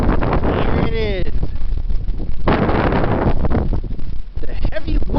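Heavy wind gusts through a snowstorm, roaring continuously and buffeting close to the microphone, with brief whistling tones rising early on.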